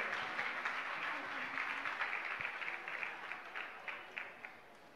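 An audience at a Jain religious ceremony applauds as sponsors come forward to install a Chaturmas kalash. The clapping is a steady, dense wash of many hands that holds evenly and then thins slightly at the end.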